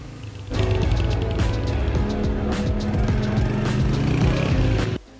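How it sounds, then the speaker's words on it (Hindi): Motorbike engine running after a kick-start, a loud steady revving drone with rhythmic pulses that lasts about four seconds, then cuts off sharply. "बाइक को किक मारी।"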